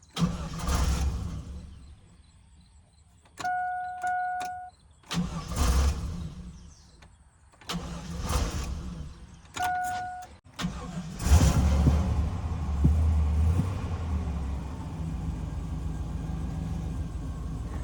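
A truck engine cranks in several separate attempts, each with a starter whir and brief catching bursts, then finally starts and settles into a steady low idle; close and fairly loud, with short pauses between tries.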